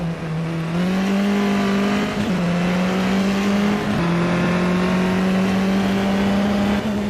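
Steady onboard engine drone from a Formula 4 race car lapping Snetterton circuit, loud and close, holding a high constant pitch with brief dips at gear changes or lifts before climbing back.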